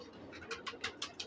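A very old blue-eyed pigeon gives a quick run of about five soft coos, close and fairly faint, over a light background hiss.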